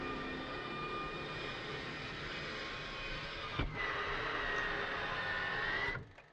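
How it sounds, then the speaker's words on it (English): An F-16C canopy in a flight sim whirs closed with a steady electric motor hum over cockpit ambience, ending in a soft thunk as it seals, with a brief click midway. "So now that the battery's on, I'm going to close my canopy."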